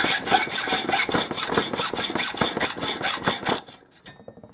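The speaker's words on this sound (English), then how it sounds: "Take a hacksaw and run it along them." Hacksaw cutting through nuts threaded on a bolt, close and loud, with steady back-and-forth strokes in a quick regular rhythm that stop abruptly near the end.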